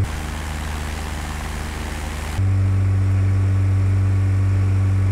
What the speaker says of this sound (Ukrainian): Я збавив обороти, о, оберти двигуна.